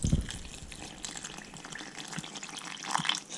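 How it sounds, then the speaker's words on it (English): Water is poured over cabbage for kimchi, a soft, steady trickle and gush into a container with faint splashes, close and quiet. "And now here comes the water that I told you to leave."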